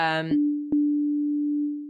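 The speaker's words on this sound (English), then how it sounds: "right now we're playing a sine wave" A synthesizer sustains a steady pure sine-wave tone, starting after a brief harmonic note and holding loud and unchanging for over a second with one small click midway.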